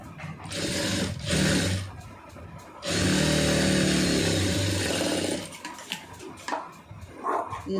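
A sewing machine stitches the lining of a blouse in steady whirring runs, one long continuous burst in the middle framed by shorter stop-start passages, close and loud.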